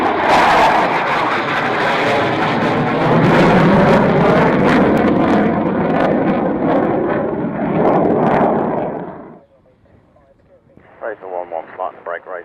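A military jet, callsign Razor 11, lands on runway 25, its loud steady roar and wind rush filling the scene before cutting off sharply, followed by short bursts of radio voice.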